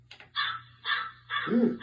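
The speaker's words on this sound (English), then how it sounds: "we can do some bird calls" Studio sound effect of a crow call: three harsh, loud caws in quick succession, close and isolated, with no talk.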